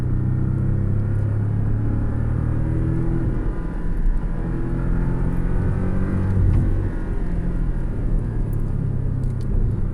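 A sports car in sport mode with automatic shifting gives a loud, close engine rumble and a steady droning pull that rises and dips as it changes gear.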